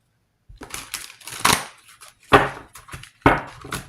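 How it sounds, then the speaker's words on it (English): Thick tarot cards being shuffled by hand, heard as several loud, rough riffling bursts separated by short pauses, close and alone. "These cards are so hard to shuffle because they're thick."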